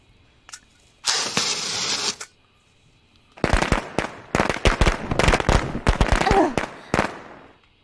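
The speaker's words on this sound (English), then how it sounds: "Oh, hey, fireworks." Fireworks go off in the video game Sense: A Cyberpunk Ghost Story, a sustained fizzing crackle burst followed by a rapid irregular string of sharp, loud firecracker pops.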